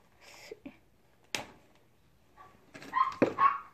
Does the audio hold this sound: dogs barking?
yes